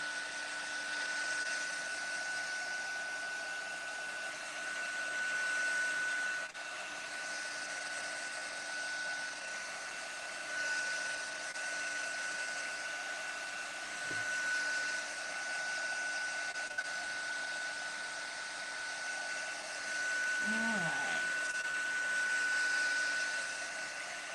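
A hair dryer blows steady heat over thick mixed media paint on a sunflower piece, a continuous close whir lasting throughout with only slight shifts in pitch and a few faint handling knocks.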